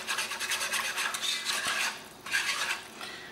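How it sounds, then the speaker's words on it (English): Macaroni and cheese sauce stirred in a pot until smooth, a continuous scraping and rubbing rasp of a spoon against the pan with steady rhythmic strokes, close and fairly quiet, with no talking. "we're going to go ahead and stir this in until it's smooth"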